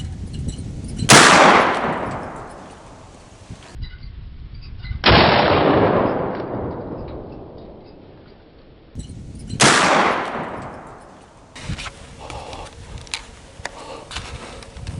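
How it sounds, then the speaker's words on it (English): Loud rifle shots while deer hunting near a farm field, three separate booming reports each followed by a long fading echo, spaced several seconds apart in open air. "I just shot another buck."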